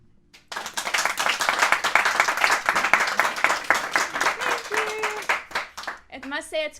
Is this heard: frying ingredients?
no